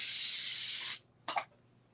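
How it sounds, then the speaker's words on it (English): A short burst of spray adhesive hisses onto foam during a sewing project, a steady one-second spray followed by a brief, quieter puff after a pause. "I'm just gonna do a little spray."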